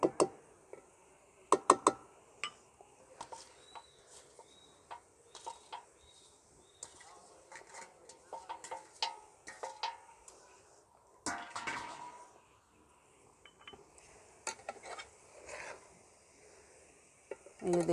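Vegetable egg fried rice gently mixed in a pot in a village kitchen, a scattered run of soft scrapes, clinks and taps from a utensil against the metal, faint and close, with a brief rustling burst midway and no talk.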